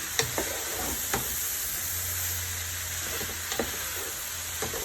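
Spiced cabbage stir-fry with mixed pepper sizzles softly under a steady hiss in a pan, with a few sharp clinks and scrapes of stirring, close by and without talking.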